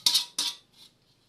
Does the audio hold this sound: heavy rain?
no